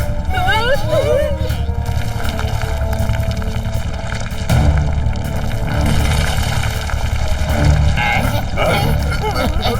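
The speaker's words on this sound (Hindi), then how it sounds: "ये देखो इसका धमाका" A cartoon blasting pen sets off a big booming explosion, a loud rumbling blast with crackling debris layered under excited cartoon voices and background music.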